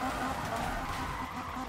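A Nissan 180sx engine in the video game Need for Speed (2015) drones with a steady raspy tone, tire skids mixed in, loud and continuous through the short moment.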